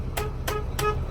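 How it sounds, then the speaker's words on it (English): Three short horn blasts at even intervals from a 2007 Mack CTP713B dump truck, heard close over a steady idling engine rumble. "Horn works."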